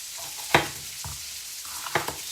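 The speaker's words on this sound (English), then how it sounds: "we're just going to start frying these onions off. We've just gone for white onions." White onions fry in a pan with a steady soft sizzle, broken by a few sharp clunks of a utensil stirring against the pan.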